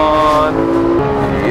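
Porsche 991 GT3 sports car accelerating on a racetrack, a loud sustained engine note with a rising tone, heard up close under a voice.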